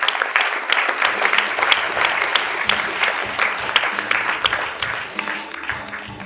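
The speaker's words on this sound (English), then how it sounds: "A round of applause for them," Audience applause at the Sankalp award ceremony, a dense sustained wash of many hands clapping throughout, fairly loud and even with no voices over it.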